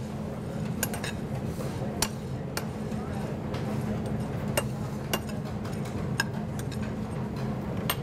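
Nuts dropped into a pan to toast, giving scattered light clinks and ticks against the metal over a low steady background hum, some taps sharper than others.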